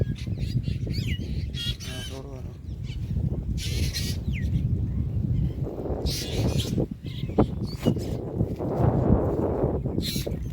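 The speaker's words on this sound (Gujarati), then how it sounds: "છોડવાનો ચકલા પણ આવ્યા છે" Sparrows chirp in repeated short bursts, fairly near, among plants in a cotton field, over a busy rumbling background noise.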